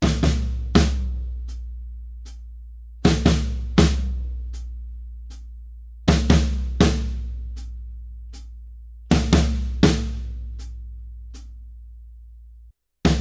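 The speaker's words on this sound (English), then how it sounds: "Next up, we have these hits down on the floor tom with the snare drum," Floor tom and snare struck together in a drum part, four loud grouped hit patterns with ringing decays and steady pulses between, played alone.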